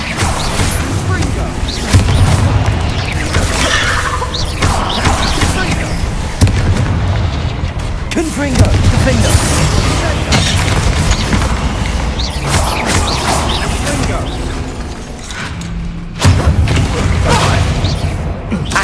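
Confringo blasting-spell explosions in the video game Hogwarts Legacy, loud repeated booms and crackling bursts densely layered over continuous game effects, with a voice calling out spell names throughout.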